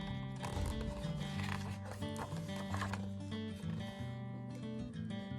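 Horse hooves trotting in a barnyard setting, a busy clip-clop mixed with animal noises and a layered musical backing, steady and fairly loud throughout.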